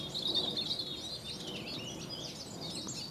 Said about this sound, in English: The birds really are in their heaven